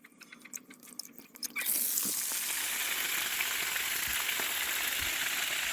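Drinking water is let out of a tank being cleaned. A sudden rush of water bursts in and keeps up a steady, loud hissing splash after a few quieter knocks and drips.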